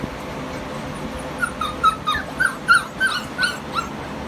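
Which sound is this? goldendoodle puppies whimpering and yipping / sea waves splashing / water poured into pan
goldendoodle puppies whimpering and yipping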